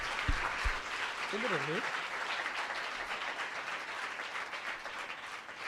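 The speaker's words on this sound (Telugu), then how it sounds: "చప్పట్లు కొట్టుట అనగా చేతులు ఊపుట కాదు, సౌండ్ రావాలి." An audience claps during a sermon, a broad, continuous wash of many hands clapping at a moderate distance, with a short spoken remark and a couple of sharp knocks early on.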